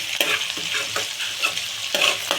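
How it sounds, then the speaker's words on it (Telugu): Onions fry to golden for a dried prawn curry, a loud close sizzle broken by about five quick scraping stirs of a spatula against the pan. "అవి కొంచెం దోరగా ఫ్రై అవ్వాలి"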